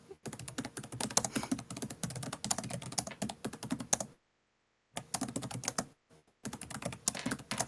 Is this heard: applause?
no